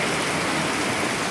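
Heavy rain pours down in Abidjan, Cote d'Ivoire, a loud, dense, continuous hiss with no pauses and no voices.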